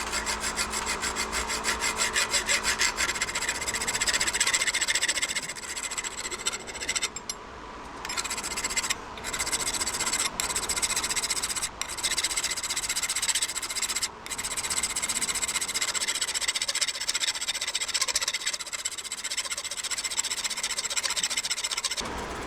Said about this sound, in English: we need to go ahead and continue filing here. We'll go ahead and file some on here